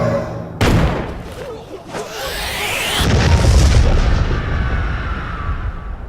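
Heavy cannon fire booms in the One Piece Warriors 3 video game, with a sharp blast followed by rolling, rumbling explosions and whooshing effects that build into a sustained loud roar.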